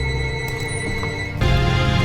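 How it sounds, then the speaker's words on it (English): A telephone rings with a steady, sustained electronic tone alongside background game sound, fairly loud and close, before a denser burst of noise takes over near the end. "The phone is ringing off."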